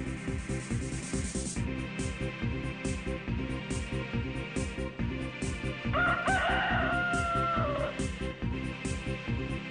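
A rooster crows once in the background over a dense, steady bed of music or broadband noise, the crow rising and falling over a couple of seconds.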